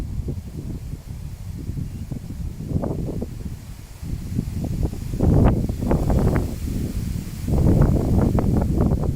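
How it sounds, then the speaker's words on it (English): Strong wind gusting outdoors, rumbling against the microphone in low buffeting surges that build and fall, growing stronger toward the end. "that wind has really picked up really quickly"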